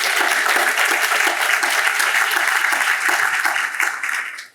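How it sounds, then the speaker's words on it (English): Audience applause at a talk on Chicago school graduation rates, a dense, loud burst of clapping that holds steady and then fades out at the end. "which I think is worth applauding on"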